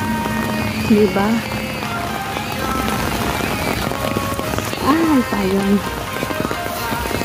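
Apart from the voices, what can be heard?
heavy rain falling during a rainstorm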